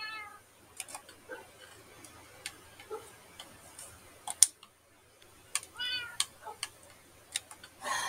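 A pet cat in a video game gives several short meows between light ticking and clicking sounds, fairly quiet against a hushed background.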